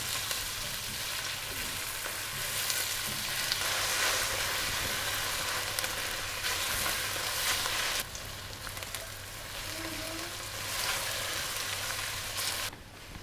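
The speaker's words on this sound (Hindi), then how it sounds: "इसको हम अच्छे तरीके से भून लेंगे।" Potato peels frying with salt in a pan, a soft continuous sizzle with occasional stirring scrapes and shifts in intensity, close and quiet, without speech.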